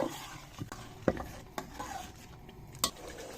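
Chickpea paste being stirred into chicken gravy in a cooking pot for Lahori murgh cholay: a handful of spoon scrapes and knocks against the pot over a low, faint sizzle.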